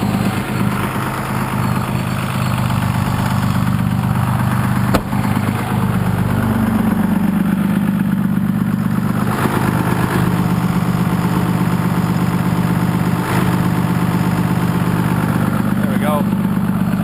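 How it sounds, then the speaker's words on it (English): A 6.2-liter Cummins diesel engine idles steadily and loud throughout, its low drone carrying a rhythmic pulsing, with a brief rising whine partway through. "You can hear it pulsing on the motor."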